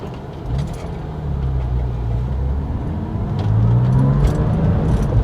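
A Porsche 996 Targa with an upgraded quick shifter drives along, engine droning inside the cabin and pitch rising and dropping as gears change, fairly loud and steady.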